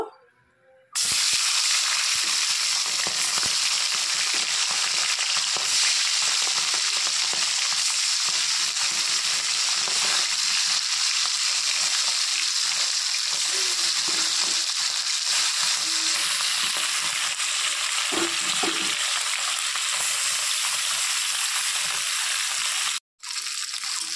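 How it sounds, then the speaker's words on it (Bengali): Bata fish sizzles in hot oil in a wok (kadai) for a ridge-gourd fish curry: a loud, steady, close frying hiss that starts abruptly and runs unbroken for the whole stretch, with a brief cut near the end and no talking. "তো কড়াইটার মধ্যে তেল দিয়ে দিয়েছি, তেলটা গরম হয়ে গেছে। এখন আমি এর মধ্যে মাছগুলো দিয়ে দিব।"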